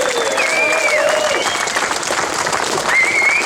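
Loud, dense applause from a crowd at a union rally, steady clapping throughout with some whistles and cheers cutting through on top.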